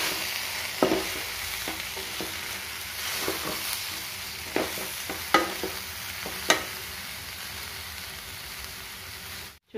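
Bitter gourd masala stirred and frying in a pan, a continuous sizzle broken by several sharp spatula scrapes and clacks against the pan, close and steady.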